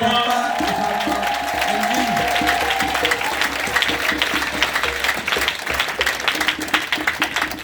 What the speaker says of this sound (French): Est-ce qu'on peut acclamer encore pour notre maman?